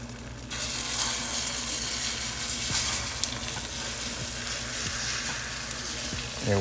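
Pancake batter fries in a hot pan as a steady, close crackling sizzle that begins abruptly and holds evenly, with a few small clicks and no voices.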